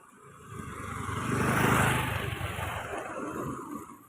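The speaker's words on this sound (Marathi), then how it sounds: "अशी वाहनं चालू झालेली आहेत" Road traffic on a street during a walk outdoors, a broad engine rumble and tyre noise swelling as a vehicle passes close by, then easing off, with no talking.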